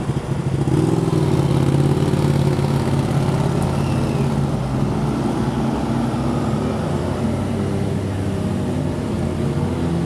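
Sportbike engines idling together, a Ducati Panigale, Triumph Daytona 675R and Kawasaki Ninja 636, producing a steady low rumbling drone with a slight wavering pitch, close and continuous.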